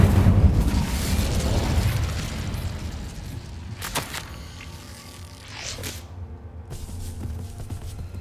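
An Incendio fire spell cast in Hogwarts Legacy sets off a booming, roaring burst at the start that fades into crackling, with a few sharp snaps and whooshes following at moderate volume.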